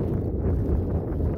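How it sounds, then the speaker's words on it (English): Strong wind pounding and buffeting the microphone outdoors near bridges, a steady low roaring rumble with no pauses across the short stretch. "Wind has been pounding for a minute"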